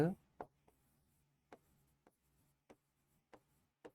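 Marker or chalk writing on a board in a classroom, quiet and close: a string of short separate strokes and taps spaced about half a second apart, with faint room noise between them.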